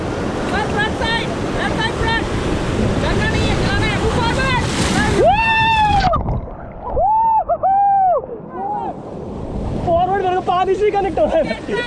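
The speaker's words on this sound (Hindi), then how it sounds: "सामने एक रैपिड ये है सबसे पहला मेजर रैपिड" Rushing whitewater of a major rapid on the Kundalika River roars steadily under excited shouting voices of rafters, the churning water loud and close throughout.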